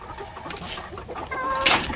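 A Dekalb Brown hen near its nest gives a few soft clucks and a short, louder call near the end, close by over faint background noise.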